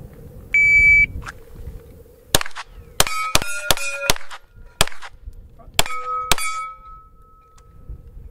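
Steyr L9A1 pistol at a shooting match: a shot-timer beep, then about eight sharp, loud shots in quick bursts, several followed by the bright ring of struck steel targets, with no talking.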